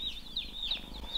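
Backyard chickens and young chicks give short, high chirping and clucking calls in quick bursts, faint and nearby, over a low outdoor background hum.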